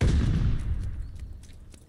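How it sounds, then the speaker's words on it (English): Mortar shells fire in Call of Duty Vanguard as a heavy, close boom that decays over a second or so. A few faint sharper cracks follow further off. "They're sending mortar shells."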